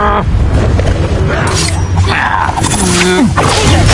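A Confringo blasting spell explosion in a Harry Potter–style video game, a heavy booming blast with shattering debris and growling effects, loud and close, amid combat noise.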